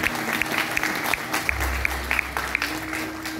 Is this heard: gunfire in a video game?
no